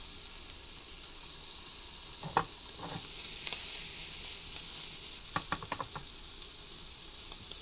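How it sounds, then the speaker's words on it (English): Shrimp frying in a pan for tacos at a cooking demonstration, giving a steady close sizzle with a few scattered clicks and light stirring taps, no voices. "Won't take very long to cook the shrimp."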